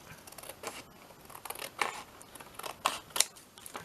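Scissors fussy-cutting book shapes from paper, with a series of short crisp snips at an uneven pace, close and fairly quiet, with no speech.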